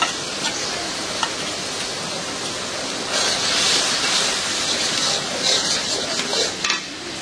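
Ground spice paste sizzles and fries in a pan while being stirred, a steady broadband hiss with scraping stir strokes throughout, close and moderately loud.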